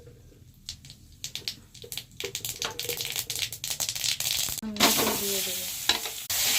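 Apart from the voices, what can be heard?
mustard seeds and dried chillies tempering in hot oil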